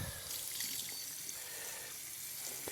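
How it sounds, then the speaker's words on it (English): Tap water runs steadily from a bathroom faucet, rinsing grout off freshly laid wall tiles; a continuous, moderately close splashing stream with no voices. "Get that rinsed off."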